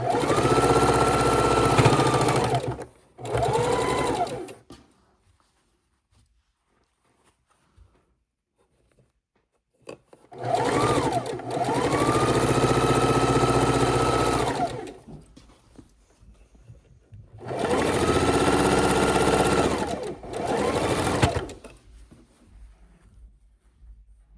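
Long arm quilting machine stitching through quilt top, batting and backing, running in three sustained bursts of steady whirring hum separated by quiet pauses, close and fairly loud.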